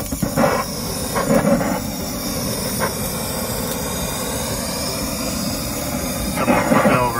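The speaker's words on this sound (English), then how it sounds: "We're going to actually try the su-vgun on the other side just for comparison." A sous vide gun torch roaring steadily as it sears a ribeye steak, a continuous close broadband hiss with a few brief louder bursts, no talking.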